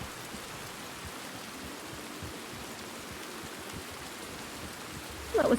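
Steady, even rain hiss fills the scene in the Red Dead Redemption video game, a constant wash of falling water with no talking until a brief louder bump at the very end.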